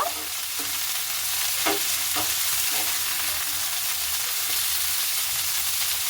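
Cauliflower stems sizzle loudly in a pan of hot oil, with a few scraping stirs of a utensil cutting through the steady frying hiss.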